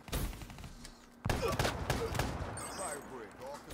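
Video game shotgun blasts land as heavy booming shots, one early and a louder cluster midway, over continuous game noise with speech mixed in.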